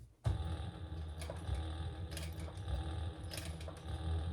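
A sewing machine running slowly at close range, stitching a crossbody bag in short bursts with faint mechanical clicks over a low hum.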